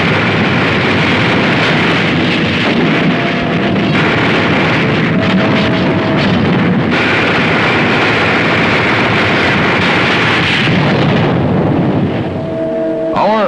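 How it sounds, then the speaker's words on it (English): Artillery fire in a World War II gun duel in France, 1944, a loud, continuous rumbling roar of heavy guns with rolling blasts, wind-like noise, and no speech over it. "Our artillery engaged in a duel with enemy guns."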